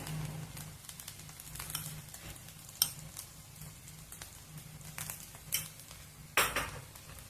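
Masala powder being stirred into brinjal vangi bath, a soft scraping and clinking of a spoon in a pot with occasional louder knocks against the rim, fairly faint and close with no talk.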